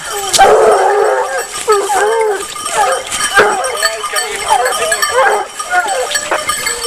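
A pack of Gascon hounds bark and bay in an excited chorus as they are released, loud and continuous with overlapping yelps, while voices call out now and then underneath.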